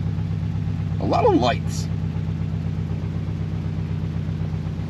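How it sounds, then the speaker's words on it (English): A weed whacker runs in the background outside a shop being cleaned up, a steady low mechanical drone throughout with a short burst of speech over it. "Sorry about the weed whacking in the background"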